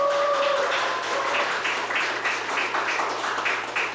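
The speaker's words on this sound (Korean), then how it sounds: "큰 박수 부탁드립니다." Applause welcoming a presidential primary candidate at a meeting with small business owners: continuous, moderately loud clapping from a gathered crowd over a low steady hum, with a brief tone near the start.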